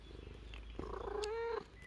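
A cat purrs close by, a soft continuous rumble with a brief louder vocal rise near the end; no talking.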